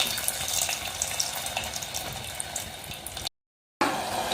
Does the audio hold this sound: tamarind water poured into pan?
yes